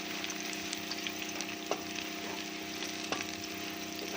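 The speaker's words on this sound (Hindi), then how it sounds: "यहाँ हमारा प्याज ब्राउन हो रहा है।" Onions frying and browning in a pan for a rajma curry, a steady close sizzle with occasional louder pops and crackles, no talking.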